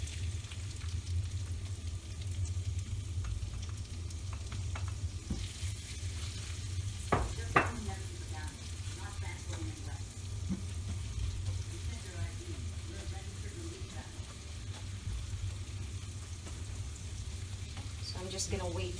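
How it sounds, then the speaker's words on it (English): Minced garlic sizzling in olive oil and melted butter for chicken fried rice, a soft, continuous frying hiss with occasional utensil clinks and stirring scrapes, fairly quiet throughout. "now we're gonna go ahead saute our minced garlic."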